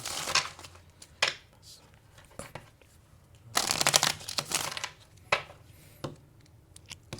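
Tarot cards being handled and drawn from a deck during a reading, giving brief crisp shuffling and sliding bursts that come in several separate clusters, close and fairly quiet, with no speech.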